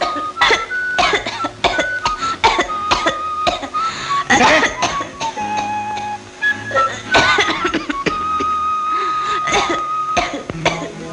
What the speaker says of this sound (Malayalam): മോളെ മോളാണോ ചുമച്ചത്?